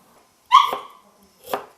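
A pet dog named Pepper barks twice indoors, a sharp loud bark followed about a second later by a shorter, softer one, both close and clear against a quiet background.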